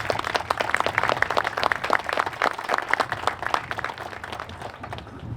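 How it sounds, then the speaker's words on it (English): A crowd applauds student athletes at a tennis complex groundbreaking, a steady dense patter of many hands clapping close by for several seconds with no speech over it. "Let's get a nice round of applause again for Sydney and Jackson"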